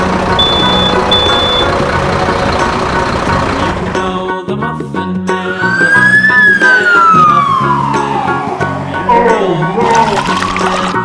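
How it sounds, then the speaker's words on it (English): A wailing siren sweeps up and down over busy traffic and street noise, loud and fairly close, with a voice speaking briefly. "Ambulance."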